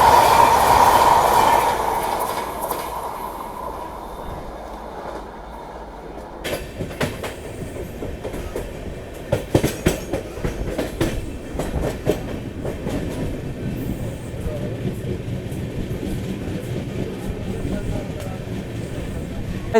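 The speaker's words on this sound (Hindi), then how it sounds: "रांची से नई दिल्ली के बीच में चलने वाली रांची गरीब रथ एक्सप्रेस" The Ranchi Garib Rath Express overtakes on the adjacent track between Ranchi and New Delhi, a loud rushing roar with rapid clickety-clack of wheels over rail joints and occasional squeal, heard from inside a moving train.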